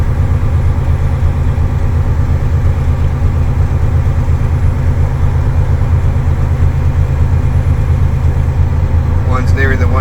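A truck's engine fast idles during an air brake inspection, giving a loud, steady low rumble close by throughout, with a brief higher tone near the end.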